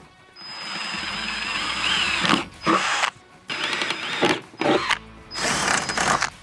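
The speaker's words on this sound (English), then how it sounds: "I am gonna drill some pilot holes." A small power drill whirs in repeated short bursts with brief pauses between, drilling pilot holes while working on a Jeep, close by, with a whining motor and some grinding as bits bite in.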